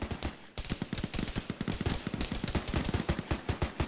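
Rapid automatic gunfire in a military video game rattles in long, dense bursts, loud and close, with shots coming in a fast, steady rhythm and only a brief gap near the start.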